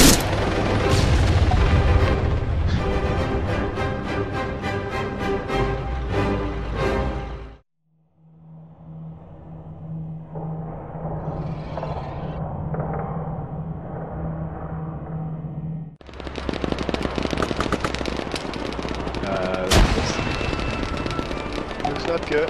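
Gunfire aimed at a helicopter in the video game Arma 3: dense, loud bursts of rapid shots, a quieter stretch with a droning hum in the middle, then more heavy firing.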